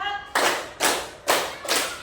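A class claps hands together in a counted rhythm, four evenly spaced bursts of group clapping, each sharp and loud with a short decay, and no talk between the claps.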